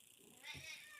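A domestic cat gives a single short, irritated meow at moderate distance, heard alone against quiet room tone.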